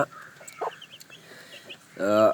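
Soft clucks and small peeps sound close by, followed by a louder, longer cackling call from a hen near the end.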